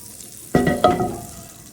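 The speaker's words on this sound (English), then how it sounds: "So let's throw in some unsalted butter. I'm gonna let that melt." Unsalted butter drops into a hot pan, setting off two quick bursts of sizzling crackle that then fade to a soft fizz as it melts. No one speaks.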